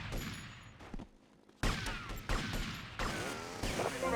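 Rapid gunfire from GTA Vice City, dense bursts of shots loud and close, dropping away briefly before resuming in heavy clustered volleys with mechanical clatter.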